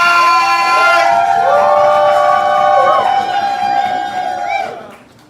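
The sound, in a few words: audience cheering and clapping for a poet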